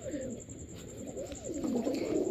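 Pigeons cooing at a pigeon seller's stall, soft repeated throaty coos rising and falling close by, with a faint steady high tone behind them and no clear talk.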